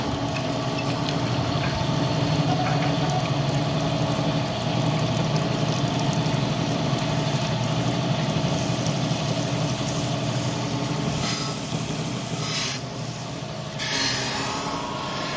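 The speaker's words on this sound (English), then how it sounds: "this is the exhaust camshaft that I'm cutting now" A steady mechanical hum and drone of a camshaft grinding machine cutting a billet exhaust camshaft, running continuously, with a constant low rumble and faint higher whine, no voices.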